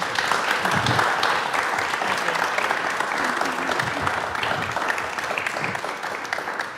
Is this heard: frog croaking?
no